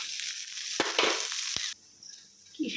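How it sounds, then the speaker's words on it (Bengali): Onion, green chilli and coriander fry lightly in a pan, giving a steady close hiss with a few sharp clicks of stirring, then the hiss drops off suddenly to a quieter sizzle. "কাঁচা লঙ্কা দিয়ে পেঁয়াজ আর ধনেপাতা দিয়ে দিয়েছি, হালকা ফ্রাই করে নেবো হালকাভাবে।"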